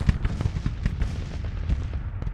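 Artillery fire rumbles across a Grand Tactician: The Civil War battle as a rapid string of deep, booming cannon reports, loud and overlapping with no pauses between them.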